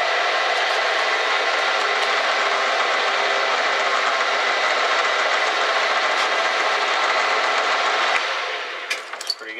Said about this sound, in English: So just to spin it up on the lathe here first.